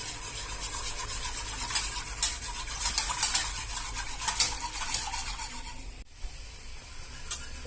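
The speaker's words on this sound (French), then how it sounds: "maintenant on va le remuer sur le feu et on va attendre que ça épaississe" A spoon or whisk scrapes and rubs briskly against a pot as béchamel sauce is stirred on the heat, in an irregular rhythm, close up and fairly loud, with a brief pause near the end.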